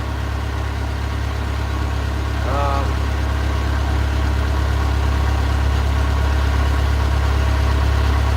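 A commercial fishing boat's engine runs at a steady loud idle, a constant low rumble and vibration filling the hull, with a faint voice briefly audible over it.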